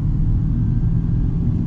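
A car engine pulling hard in third gear, a loud, steady low rumble that fills the short stretch with no break.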